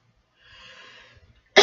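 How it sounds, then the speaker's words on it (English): A person gives one short, sharp cough, heard up close, after a faint breathy sound in the throat. "I had to cough that out."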